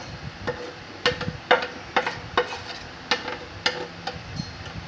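Wheat flour roasting on a tawa for beef seekh kababs, with a spatula scraping and tapping in an irregular rhythm over a soft, close sizzle.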